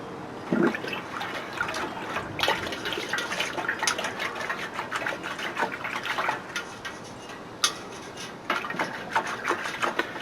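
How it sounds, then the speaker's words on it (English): A stick stirs calcium hydroxide solution in a container, making sloshing, swirling water sounds with light knocks, close and moderately loud, with no talk. "we're going to stir the solution with our favorite gardening tool, a stick"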